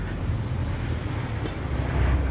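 Road traffic rumbles past outside a beachside condo in Las Terrenas, a low, steady vehicle drone that swells slightly at the end as something passes closer.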